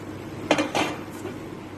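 Fried meatballs are stirred in a curry pot, with two short clatters of a spoon against the pot close by and no voices.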